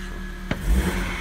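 The M43B19 four-cylinder petrol engine of a BMW E46 1.9i gives a brief, close rev swell over a steady running drone, with a sharp click just before the rise.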